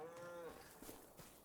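Cows mooing in the farming video game Farming Simulator 25, a faint drawn-out low moo followed by quieter livestock sounds.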